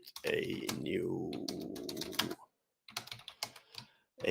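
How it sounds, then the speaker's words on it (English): Keys clatter on a computer keyboard in quick, uneven taps, partly under a person talking, then a short pause before a few more scattered keystrokes. "I'm typing something like finance data"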